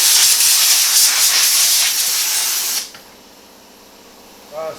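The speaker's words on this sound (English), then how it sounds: "Let's see if dust bunnies survive compressed air." A blast of compressed air from an outdoor compressor hisses loudly into a dusty ductless mini-split indoor unit for about three seconds, then cuts off, leaving quiet room tone and a brief, faint sound near the end.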